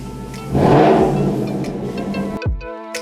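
A Ford Mustang 5.0 GT V8 coupe engine revs hard and loud, surging then settling into a rumbling idle before a sharp throttle blip near the end.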